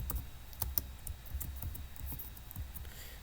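Someone types on a computer keyboard in a burst of quick, light clicks, close and moderately quiet, with a few sharper key taps early on.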